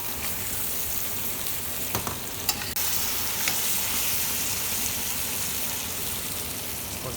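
Lamb neck and softened onions fry in a pot, giving a steady, close sizzle with a few brief clinks of stirring and no voices.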